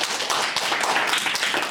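At a hypnosis stage show, an audience applauds the volunteers, a brief burst of close, dense clapping with sharp individual claps standing out.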